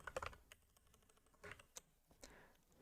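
Typing on a computer keyboard while writing a test file: scattered quiet key clicks in short irregular bursts, close to the mic, with no voices.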